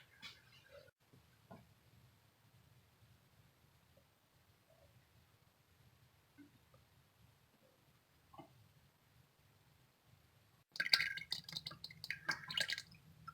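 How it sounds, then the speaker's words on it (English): Transmission fluid drips slowly from the check hole of a 2012-2015 Honda Civic CVT, soft sparse drips over a low hum, followed by a louder burst of rustling near the end. "When it's just dripping a little, then I'll put the check plug back on."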